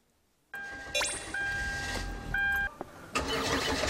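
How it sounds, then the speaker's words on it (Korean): Car engine cranking and catching, a short starter burst followed by the engine settling into a steady idle, with dashboard chimes ringing over it, close and clear. "시동 한번 켜볼까요?"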